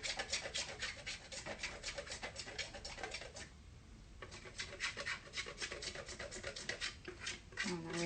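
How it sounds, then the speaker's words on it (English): A cheap, rough kitchen grater scrapes across a block of chocolate in fast, repeated rasping strokes, close and fairly quiet, continuing steadily with a brief pause midway. "I like to grate a little bit of chocolate on top of my mousses"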